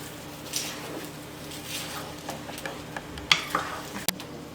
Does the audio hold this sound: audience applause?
no